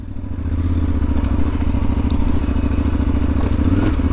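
A motorcycle engine putters along steadily at low speed through slow city traffic in Amsterdam, a constant close rumble with faint clatter and road noise, no talking.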